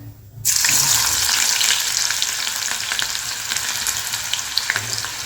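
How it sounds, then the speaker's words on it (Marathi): Chopped onion dropped into hot oil in a kadhai for misal sets off a sudden loud sizzle that holds steady for several seconds as the onion fries. "तेल गरम झालं आहे आता ह्याच्यात टाकते मी कांदा"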